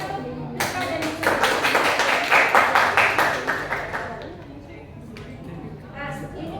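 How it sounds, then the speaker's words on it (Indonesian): Classroom applause during a lesson on magnets, a burst of clapping from a group of pupils that swells, peaks and then thins out, with voices talking over it. "Beri tepuk tangan untuk Rika dan Disti."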